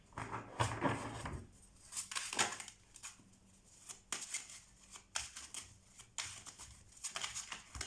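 Tarot cards are shuffled by hand in repeated bursts of riffling and sliding, crisp and close, each flurry separated by brief pauses, with no voice over them.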